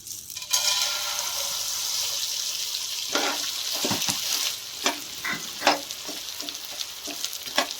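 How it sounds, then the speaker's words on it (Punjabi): Edible gum pieces fry in ghee over a low gas flame for Punjabi panjiri, a steady bright sizzle overlaid with scattered scrapes and pops as they are stirred, close by with no talking. "ਹੁਣ ਇਹਦੇ ਵਿੱਚ ਗੂੰਦ ਪਹਿਲਾਂ ਕਰ ਲੈਣੀ ਹੈ ਫਰਾਈ"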